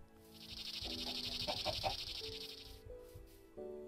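A Minecraft chicken clucks in a quick run of several short notes over a steady high ambient tone and game background sounds, clear and alone without speech.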